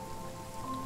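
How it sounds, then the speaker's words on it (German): Light rain weather in a train simulator game, a soft, steady patter heard faintly and alone for a brief moment, with a thin sustained tone running beneath it. "Wetter sollte leichter Regen sein."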